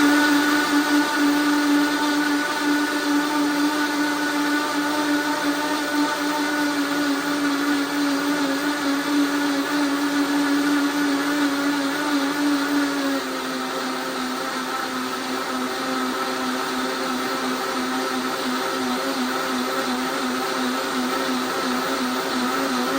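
A Vitamix blender motor whirs loudly and steadily at high speed, its tone dropping slightly partway through as the load changes, running continuously with no talk.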